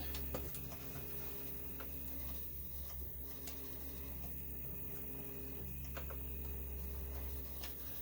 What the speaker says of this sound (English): that's why the 3D printer is running in the background